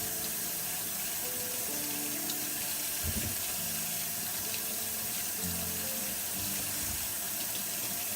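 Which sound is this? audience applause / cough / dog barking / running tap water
running tap water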